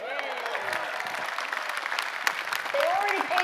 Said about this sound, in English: They have no choice but to applaud